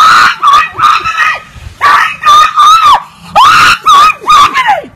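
A woman screams repeatedly at a neighbor during a tantrum over property, in loud, shrill, rising-and-falling bursts close by with short pauses between them.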